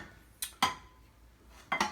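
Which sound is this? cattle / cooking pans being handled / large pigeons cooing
cooking pans being handled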